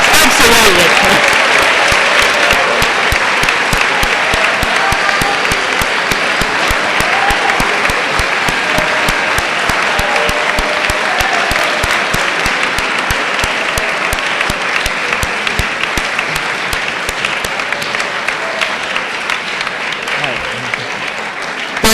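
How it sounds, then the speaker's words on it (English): An audience at the Saint Peter's Prep Thanksgiving Service in 2016 breaks into loud, sustained applause, a dense wash of clapping that holds steady for over twenty seconds and only slightly tapers toward the end. "Let's give a big round of applause."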